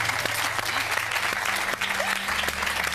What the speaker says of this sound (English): It's all right, you don't have to applaud puns